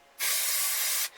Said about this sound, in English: just spray that on the surface of the cover.